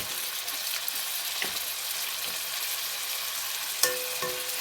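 Brinjals sizzle steadily in a hot pan, a dense close frying hiss running the whole time, with a few light utensil taps and one sharper clink near the end.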